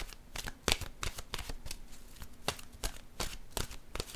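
Oracle cards are shuffled by hand with a quick run of crisp, papery riffles and slaps at close range, in a steady rhythm and fairly quiet, with no talking over them.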